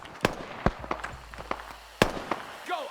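Gunshots from an AI squad in the military game Arma 3, sharp scattered cracks at irregular intervals, a few loud and some more distant, with faint shouting.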